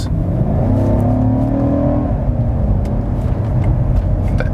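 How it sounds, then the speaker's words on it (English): A 2018 BMW M5 F90 engine revs up as the car downshifts to overtake, a loud close interior roar that climbs quickly in pitch then settles into a steady strong drone. "Let's also see if we can have smooth overtaking maneuvers. So we shift down a little bit."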